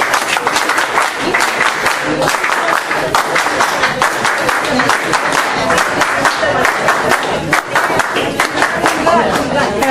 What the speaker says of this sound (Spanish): Palmas, compañeros.